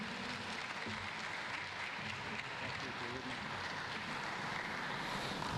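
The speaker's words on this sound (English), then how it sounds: "Please give a great hand of applause" Applause fills the room at the American Samoa Disaster Resilience Summit, a dense, steady wash of many hands clapping without pause, slightly muffled and roomy, with a faint low rumble beneath.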